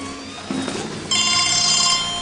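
A cell phone left near a storm sewer rings with an electronic ringtone that starts low and then jumps to a brighter, louder tone partway through, holding steady to the end.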